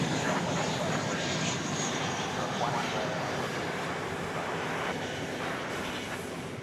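An American Airlines Airbus A321 arriving from San Francisco at DFW airport at night gives a steady, broad jet roar that stays loud throughout and eases slightly toward the end.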